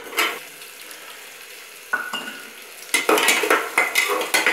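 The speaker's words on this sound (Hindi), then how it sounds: "मिर्च को पकाने के बाद आप इसमें प्याज डालेंगे।" Chillies and onion for a mixed vegetable curry frying in hot oil while being stirred in a pan, a steady sizzle with spatula scrapes that grows louder and busier as the onion goes in.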